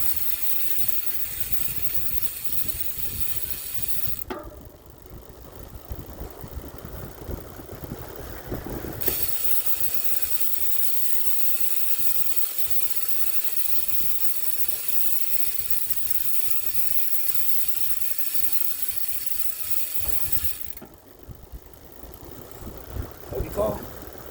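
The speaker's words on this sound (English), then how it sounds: "So I'm going to show you the sound of how these hubs are going to sound." Nukeproof Neutron V2 rear bicycle hub with 36 engagement points spun up by hand, giving a steady fine ratcheting buzz that runs nearly the whole time, broken by a few brief pauses and shifts in tone.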